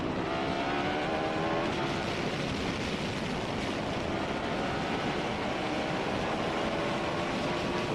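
Onboard a 1980s/90s Formula 1 car accelerating at Spa, a loud, continuous high-revving engine whine rising in pitch across several gears, close and dense, no talk.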